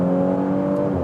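A sports sedan engine gives a brief, steady, loud droning hum with a strong low tone, held at an even pitch for about a second.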